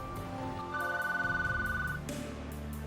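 A telephone rings in a tense scene, a clear electronic ringtone trilling repeatedly over a low background, up close and with no speech.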